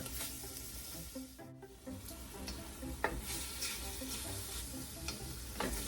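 Italian sausage links browning in a soup pot, with a steady sizzle and some stirring and scraping, plus a few sharper clinks near the end.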